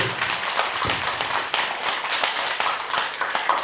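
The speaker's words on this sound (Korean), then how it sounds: "박수 한번 크게 치세요." Audience clapping loudly during a Buddhist lecture on the Lotus Sutra, a dense, steady wash of many hands throughout.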